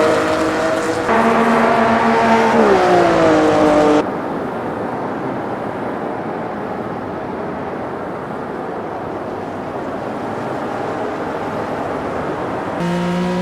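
Porsche 911 RSR 3.0 in Automobilista 2 on the 1970s Red Bull Ring, a loud engine note climbing in pitch through the gears, then a sudden cut to a low rumble when the throttle is lifted, and a brief return of power at the end.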